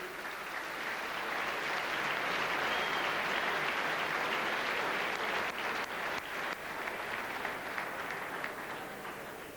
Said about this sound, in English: you may applaud them indeed